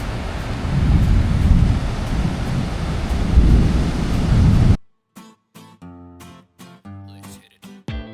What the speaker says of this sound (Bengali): এতটাই জোরে হাওয়া বইছে